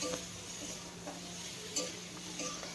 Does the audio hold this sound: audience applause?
no